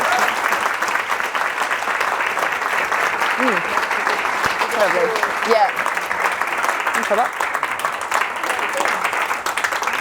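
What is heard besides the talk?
applause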